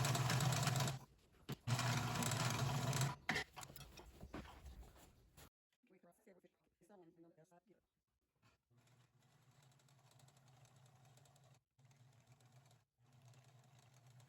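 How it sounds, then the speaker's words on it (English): A sewing machine stitching the seams of a bag made from recycled denim, running loud and fast in bursts, then dropping to a quieter, steady whir after a pause with brief sounds in between. "we will sew around and then sew up the middle"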